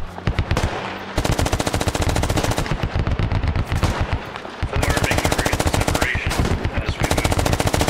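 Gunfire in the SquadOps video game: dense, rapid automatic bursts rattle almost continuously at close range, with brief gaps between volleys and faint voices underneath.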